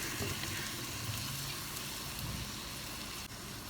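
Drumstick pieces sizzling in hot oil in a pan for a brinjal gravy, a steady close frying hiss running throughout with no talk.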